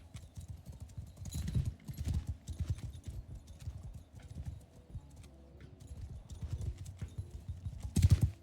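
Rapid hoofbeats of several horses galloping in a steady clip-clop rhythm in the video game Mount & Blade II: Bannerlord, moderately loud, with a brief whinny-like burst near the end.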